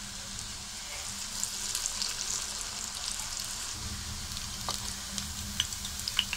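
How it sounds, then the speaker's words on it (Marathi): Chakli sizzles in hot oil over a low gas flame, a steady close crackling hiss with scattered small pops, fairly quiet and with no talking. "तेल तापलेलं आहे. चकली तेलामध्ये सोडूया."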